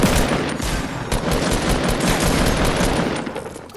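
Video game gunfire rattles out in rapid bursts, loud and dense, with shots fired in fast succession and no clear gaps between them.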